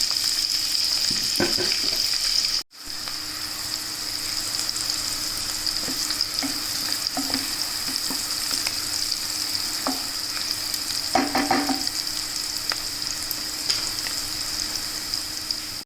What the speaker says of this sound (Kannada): ಸಣ್ಣಗೆ ಹೆಚ್ಚಿಕೊಂಡಂಥ ಈರುಳ್ಳಿಯನ್ನು ಹಾಕಿ ಬಾಡಿಸ್ಕೊಳ್ಬೇಕು